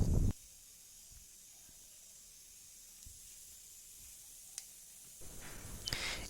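Whole cumin and a dried red chilli hit hot oil, starting with a short, sharp sizzling burst; quieter faint crackles follow, then a second hissing sizzle rises near the end.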